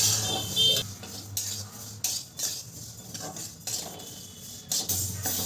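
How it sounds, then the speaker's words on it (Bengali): A spatula scrapes and rattles moong dal around a metal wok as it dry-roasts on a gas stove, giving repeated close scraping strokes in an uneven rhythm, with nobody speaking. "এইভাবে অনবরত নেড়ে নেড়ে মুগের ডালটাকে ভেজে নিতে হবে।"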